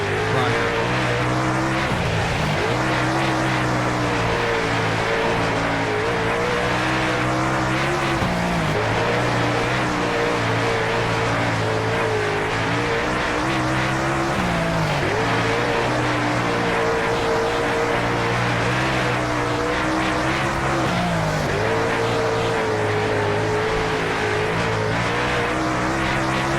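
A dirt-track race car engine roars continuously in the video game World of Outlaws Dirt Racing 24, loud and close, with revs rising and falling through corners.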